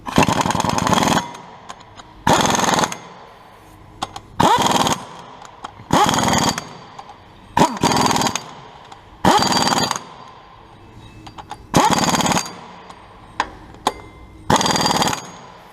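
An impact gun tightening the flywheel bolts on a Honda S2000 AP1, giving eight loud rattling bursts, each about a second long, separated by short pauses, with small clicks and clanks between them.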